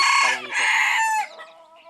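A young white bantam chicken, about five months old, gives a loud, close crow broken into clucking notes, one short burst lasting a couple of seconds.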